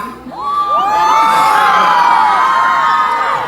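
A concert crowd at a live show in Yakutsk shouts and cheers in a loud, sustained roar of many voices with high whoops rising over it, swelling quickly and holding for several seconds.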